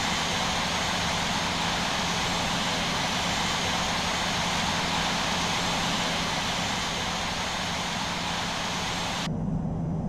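Airliner jet engines during taxi in the flight simulator game Infinite Flight, a steady broadband whine and rumble holding constant at moderate level throughout before cutting off abruptly near the end.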